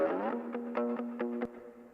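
Distorted, heavily processed tones sent through a D-Verb reverb plugin, with a long reverberant wash, sharp percussive hits ringing out into a spacious echoing tail; no voices.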